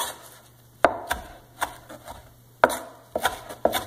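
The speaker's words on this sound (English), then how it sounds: "So I'm just going to cut off some of that. Give a rough chop." Fresh cilantro rough-chopped with a knife on a cutting board, a handful of sharp, uneven chops landing close and crisp with short pauses between them, no voices.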